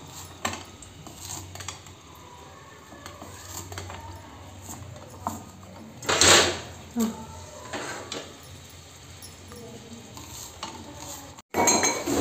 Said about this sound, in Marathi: हे पहा आपले कांदे तेलात परतून घेते मी